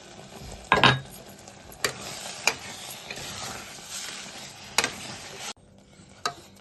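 Spoon stirring lentils with a spoonful of ghee in a pan, soft scraping and sizzling with several sharper clinks of the spoon against the metal, close and moderately quiet.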